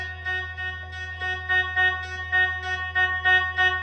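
Sustained tone from a Roland XPS-10 keyboard, a bright, buzzy held chord with pulsing swells as its volume is being raised, steady and alone without speech.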